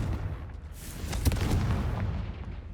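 An explosive Confringo spell blast from Hogwarts Legacy: a deep, booming burst with a heavy low rumble that swells midway and lingers at a steady loudness, with no voices.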